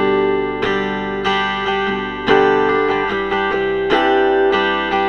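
Acoustic guitar strummed through a DOLPIN clip-on electric pickup, with a run of chord strums sounding at a steady medium-loud level, each new strum cutting in sharply over the ring of the last. No speech is heard over it.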